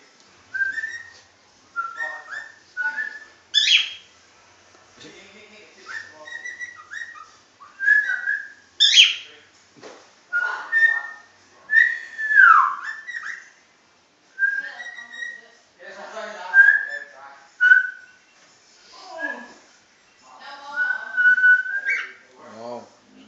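A pet bird whistles in a long series of varied, bright chirpy phrases and warbles, close and fairly loud, separated by short pauses, with no other sounds underneath.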